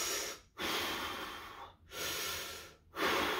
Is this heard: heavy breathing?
yes